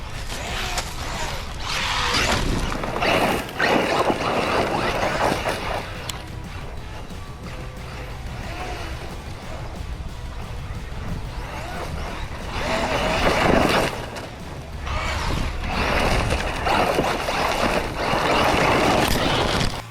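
A Traxxas Maxx Slash RC truck drives hard off-road, its electric motor whining and rising in surges, with gravelly crunching, bumps and impacts from landings, loud and close throughout.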